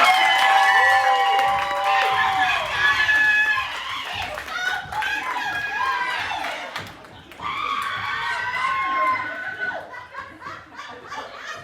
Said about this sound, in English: big round of applause for Versetticello